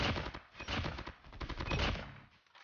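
Medax assault rifle in the Call of Duty Mobile video game firing rapid bursts of fairly quiet shots in close succession, then a short pause at the end, with no voices.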